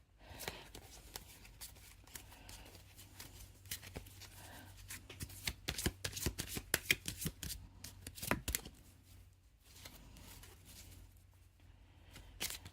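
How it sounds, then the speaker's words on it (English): A deck of cards being shuffled during a card reading, giving repeated soft riffling and snapping bursts at close range, fairly quiet overall with a low steady hum beneath. "Need to shuffle it to get the right cards to come out."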